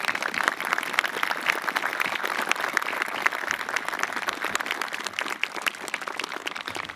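Resounding applause from a crowd at a veterans memorial dedication ceremony, dense and loud clapping sustained evenly across several seconds with no talking over it.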